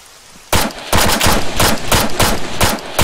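Gunfire in the military shooter ARMA III: after a half-second of quiet, a loud burst of rapid automatic shots rattles on in a steady rhythm of about ten cracks, with no voices.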